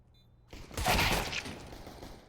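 A burst of gunfire from a Counter-Strike match on Mirage breaks out after a brief quiet, with a cluster of quick, faint shots that fade over a couple of seconds.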